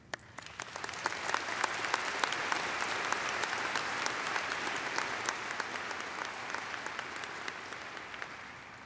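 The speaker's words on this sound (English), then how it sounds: "Please join me in applauding our fine arts program." Sustained applause from a graduation ceremony audience at a high school, steady dense clapping with no pauses throughout, moderately loud and without talk.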